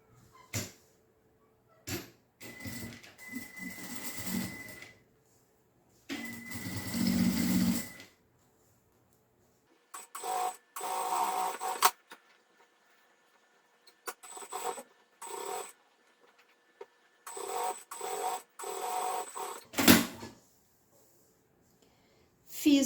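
A sewing machine topstitching the edges of a small zippered fabric pouch runs in a series of short stop-and-start bursts of needle chatter, separated by quiet pauses and light handling noise, close and fairly soft.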